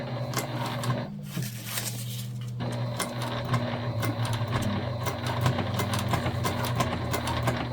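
A sewing machine stitches across an oxbow tote bag in a steady, close, even run with one brief slowdown early on; no voices intrude.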